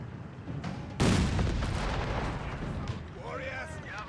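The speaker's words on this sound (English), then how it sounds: "Shot there from the Panzer III." Panzer III tank gun firing in Company of Heroes 3 during a DAK versus USF match: a single sharp, heavy boom that rings out and decays over a rumbling battlefield, with a commentator talking over it.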